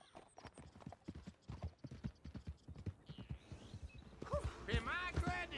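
Horse hooves clip-clop in a rapid, steady rhythm in the Red Dead Redemption 2 video game, close and clear, with a horse whinny and rising ambient noise near the end.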